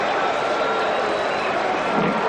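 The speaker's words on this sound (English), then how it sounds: "Listen to the crowd." A packed cricket stadium crowd roars steadily during a 1992 World Cup semi-final between Pakistan and New Zealand, a dense, constant wash of noise with no breaks.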